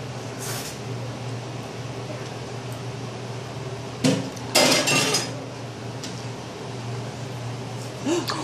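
A pan clatters into place among dishes in a home kitchen, a few sharp metallic bangs and clinks over quiet background, with brief talk nearby.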